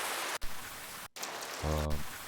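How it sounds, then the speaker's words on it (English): Rain sound samples played back in FL Studio, bursts of hissing rainfall cut by abrupt silent gaps, with a sustained buzzing tone entering near the end. "in this case I will use these rain samples"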